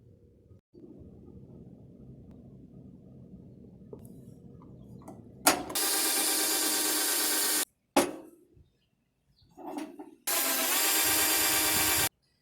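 Wood lathe turning a walnut and resin handle blank: quiet low rumble at first, then two loud sustained bursts of high whirring and scraping from the tool cutting the spinning workpiece, separated by short knocks and pauses.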